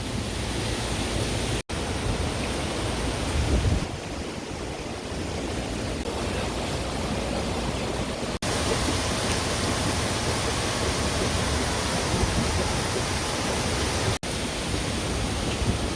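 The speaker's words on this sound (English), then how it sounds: "Not that it matters, we're already wet from the rain." Steady rain falls on a canal boat on the Erie Canal, making a dense, continuous hiss that is loud and close throughout, broken only by a few brief dropouts.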